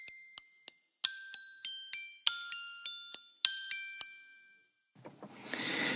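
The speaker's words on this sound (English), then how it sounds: "some very resonant measuring spoons that sound amazingly like a glockenspiel" Resonant metal kitchen measuring spoons struck one after another, about a dozen clear bright pings with glockenspiel-like pitched tones and ringing decays, each close and alone, ending in a brief hiss of noise.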